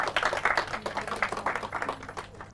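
Audience at a quiz show breaks into applause for a correct answer, a close, lively patter of many hands clapping irregularly, loud at first and easing slightly toward the end.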